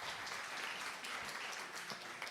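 An audience at a civic event gives a hall-filling round of applause for a man named Pierre, a continuous, even patter of many hands clapping from start to finish.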